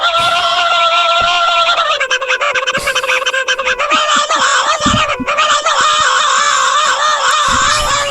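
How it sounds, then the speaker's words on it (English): Mario screaming in a video game, a loud, sustained high-pitched shriek with wavering harmonic tones that cracks and warbles throughout, close and continuous without pause. "But this is Mario screaming too."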